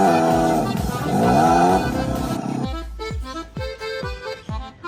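A children's ride-on toy car plays a simulated engine roar through its speaker. A sustained, revving electronic growl breaks into a string of short, punchy engine bursts, loud and close, with no talking.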